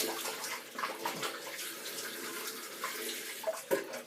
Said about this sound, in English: Now let me just rinse this brush off.